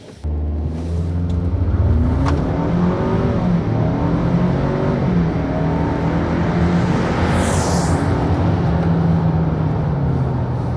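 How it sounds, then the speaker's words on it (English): A bone-stock 2019–2022 Ford Ranger with the 2.3L EcoBoost accelerates on a 0–60 run, its engine pitch rising through several gear shifts in a loud, continuous pull heard from inside the truck. "we're ready to take this Ranger bone stock 0 to 60 runs"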